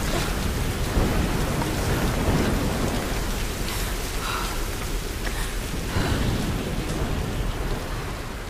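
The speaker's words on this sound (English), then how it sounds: "Definitely selling me on the storm." A heavy thunderstorm rages in the video game Tomb Raider: dense, loud rain hiss with low rolling thunder rumbles throughout, steady and without speech.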